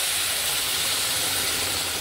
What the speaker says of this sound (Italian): con il nostro brodo bello caldo mettiamo intanto metà brodo